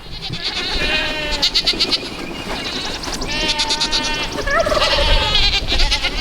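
Several farm goats bleat repeatedly at feeding time, close by and loud, their wavering cries overlapping over a busy background of shuffling and rustling.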